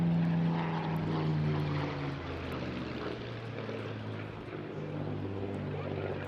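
Blue Spitfire Mark 11 propeller aircraft flying at the Eastbourne airshow, a steady loud engine drone holding throughout with a slight dip in level midway.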